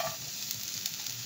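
Sliced garlic added to already-fried onion sizzles quietly in a pan, a soft continuous hiss with faint stirring underneath.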